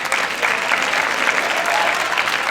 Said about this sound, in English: Give your teachers a round of applause.